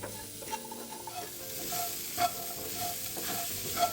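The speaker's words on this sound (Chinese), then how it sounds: "然后再拌炒至五香粉散发香味，五香粉也不能炒得过火" Taro sizzles and is stirred in a wok with five-spice powder and pepper, a steady close frying hiss broken by repeated scraping strokes of the spatula, with no talking.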